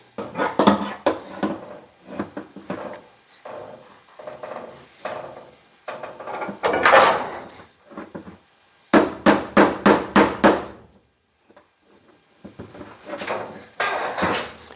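Repeated metallic hammer taps from the underside of a 1968-72 Pontiac GTO trunk lid's sheet metal in uneven bursts, followed by a quick run of five or six sharp, evenly spaced blows, close and loud.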